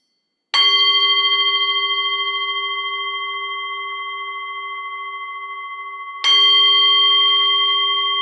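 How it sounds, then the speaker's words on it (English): A meditation bell is struck twice to open a metta meditation, each strike a clear ringing tone that slowly fades, the second coming about six seconds after the first, in a quiet room with no talking. "So if you're ready, I'll ring the bell, and then we can get started with our metta meditation."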